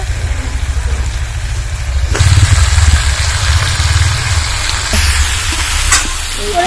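Young jackfruit pieces sauté and sizzle in a spiced pan, a steady frying hiss with stirring scrapes that grows louder partway through, alongside a low continuous hum.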